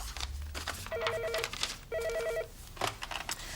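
Telephone ringing in an office scene of a comedy series, two clear electronic ring bursts in succession with a short gap, heard nearby over faint room noise.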